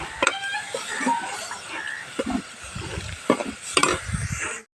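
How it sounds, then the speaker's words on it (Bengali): Chicken liver is being fried bhuna-style in a pan, a steady sizzle broken by repeated scraping and stirring strokes of a spoon, close and fairly loud, with no talking. "বেশ অনেকক্ষণ ধরে কলিজাটা ভুনা করছি"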